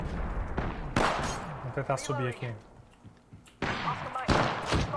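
Gunfire in the battle-royale game Apex Legends: several sharp, loud shots and bursts come in clusters, some close and punchy, with a player speaking between them.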